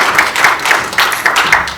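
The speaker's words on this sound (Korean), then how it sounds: "네, 박수 부탁드리겠습니다" Brisk, loud rhythmic clapping in a steady beat of about four claps per second at a National Assembly forum marking a regional newspaper's 80th anniversary, short and close with no speech over it.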